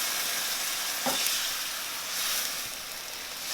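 Veggie stock bouillon boiling in a pan for a butternut squash curry, a steady broadband sizzle and bubbling hiss with a brief louder burst near the start.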